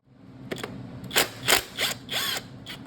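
A ratchet wrench clicks in short uneven bursts while turning 3/8 bolts on a Chrysler 41TE (A604) automatic transmission being torn down, close and clear over a low background hum.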